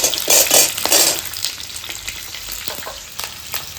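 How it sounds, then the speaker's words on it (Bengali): Two sliced onions hit hot soybean oil, for a veg chilli chicken dish: a loud burst of sizzling with scraping stirs, then a steadier, softer frying crackle. "আমি এখানে দুটো পেঁয়াজকে স্লাইস করে কেটে নিয়েছি, সেটাকে দিয়ে দেব ওই সয়াবিন ভাজা তেলের মধ্যে।"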